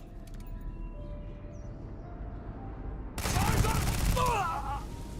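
Sci-fi weapon fire in Starfield, at first faint and distant beneath quiet ambience, then a loud close volley of rapid shots breaks in about halfway through and keeps going.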